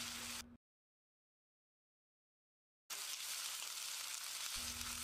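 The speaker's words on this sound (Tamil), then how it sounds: "இதையும் போட்டு நல்லா மசியற அளவுக்கு வதக்கிடலாம்." Chopped tomatoes and onions sauté in a pan for a Chettinad chicken curry, giving a close, steady frying sizzle that cuts out for a couple of seconds before starting again.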